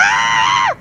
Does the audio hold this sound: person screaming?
yes